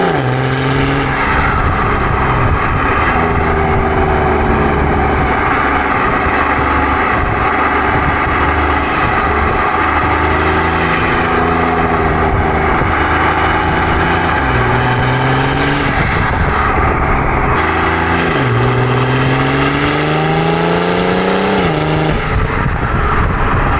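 A BMW E90 diesel sedan on winding canyon roads gives a loud interior engine drone that surges and falls as it pulls hard out of corners, with no speech.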